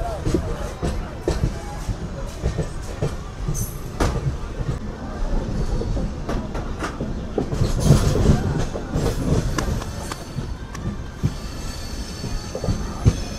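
Satavahana SF Express rumbling along inside a crowded general coach, with steady wheel-on-rail clatter, rattling carriage noise and occasional squeals filling the whole span, while voices murmur underneath.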